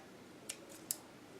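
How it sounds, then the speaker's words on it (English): Scissors snip at the corners of a felt earbud case, two crisp, faint cuts close together against quiet room tone. "you can just trim those down a bit."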